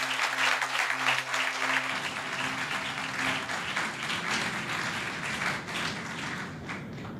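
A Methodist church congregation at a thanksgiving and reconciliation service applauds three village chiefs, a dense, sustained round of clapping that rises over a low hum and carries on steadily.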